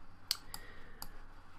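A computer mouse gives three sharp, faint clicks at uneven spacing while surfaces are selected in meshing software, over a quiet room hiss.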